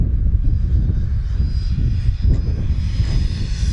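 A Freewing F-22 radio-controlled jet with a 90mm electric ducted fan flies just after takeoff, giving a steady, fairly loud whooshing roar that holds throughout with slight swells and a thin high whine on top.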